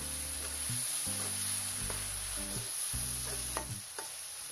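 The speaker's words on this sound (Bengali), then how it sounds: "এখন আবারও এই সব কিছু নেড়ে দিচ্ছি" Spices with ginger-garlic paste frying in a pan while being stirred, a steady close sizzle with a few scraping knocks of the spoon and a low hum underneath, no talking.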